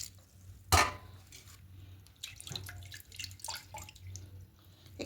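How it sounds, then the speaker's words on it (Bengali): Milk is poured into a mixer jar holding sticky batter, giving soft, faint splashing and trickling after a sharp knock at the start, heard up close in a quiet kitchen. "এবার মিক্সটা জারের মধ্যে অনেকটা লেগে গেছে, তো একটু দুধ দেবো।"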